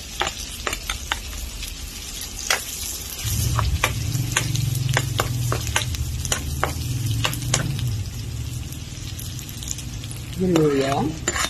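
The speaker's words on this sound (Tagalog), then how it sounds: "Gisa na po ako ng sibuyas." Onion and garlic sauté in a pan with a steady close sizzle, a louder bubbling fry building partway through, and scattered sharp spatula scrapes and taps against the metal.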